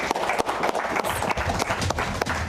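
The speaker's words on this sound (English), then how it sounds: "Another round of applause for Phoebe." A club audience at a circus-themed show applauds with dense, continuous clapping that forms a thick wash of noise, steady and moderately loud for a couple of seconds.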